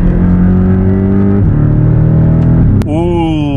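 A Porsche 718 Cayman turbo engine holds a steady loud drone, then shifts near the end as it spools up and accelerates, with a high whistle rising over the engine note.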